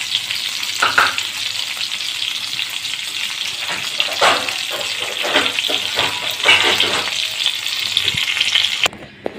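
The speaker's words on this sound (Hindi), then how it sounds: "आप देख सकते हैं मैंने ओनियन को भून लिए हैं।" Onions frying in a pan for a mini onion curry give a steady, close sizzle with stirring scrapes and clatters throughout, then cut off abruptly near the end.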